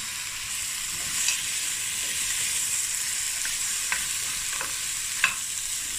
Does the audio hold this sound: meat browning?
yes